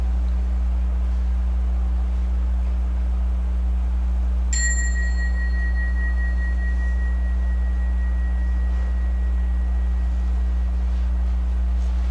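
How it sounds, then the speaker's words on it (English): A single bell is struck once during a quiet moment of reflection at a congregation's morning service, its clear ringing tone decaying slowly over several seconds against a steady low hum. "the sound of a bell"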